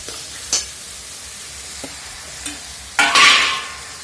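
Spice mixture for ghugni being stirred and fried in a pan: a few isolated scrapes and taps of a spoon, then a louder burst of sizzling with stirring that swells and fades near the end.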